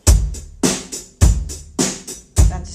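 Rock beat on a drum kit with the hi-hat playing straight eighth notes, loud punchy kick and snare hits alternating in a steady groove, close and alone.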